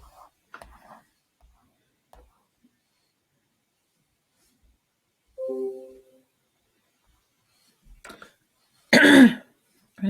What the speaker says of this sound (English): I'm going to drink water because I keep coughing.